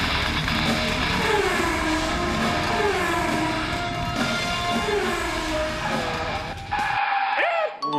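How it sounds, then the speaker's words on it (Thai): Loud, sustained squeal of car brakes screeching, with wavering high-pitched tones running steadily for about seven seconds before a brief louder squeal at the end. "โอ้โหเบรกดังขนาดนั้น เบรกแทบไม่ทัน"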